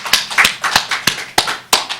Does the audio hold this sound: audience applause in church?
yes